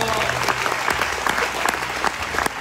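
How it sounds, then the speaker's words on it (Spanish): A church congregation applauds together, a thick continuous wash of clapping with a few sharper accents, loud and close throughout the short span, with faint voices mixed underneath. "Dele un aplauso al"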